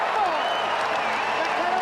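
Stadium crowd at a rugby league match calling out over a play, a continuous broad roar of many voices, steady and fairly loud throughout, with commentary talk over it.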